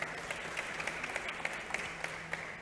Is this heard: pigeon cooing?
no